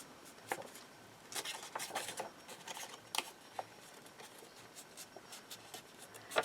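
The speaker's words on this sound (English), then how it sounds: "we're going to snip down to the score line on both of these and fold them over" Scissors snip through vellum coin envelopes down to a score line, giving a run of small, crisp, close cuts and rustles in an otherwise quiet room.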